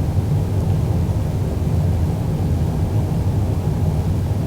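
Boeing 787-10 jet engines at full takeoff throttle make a steady, loud, unbroken roar that fills the whole clip with no voices.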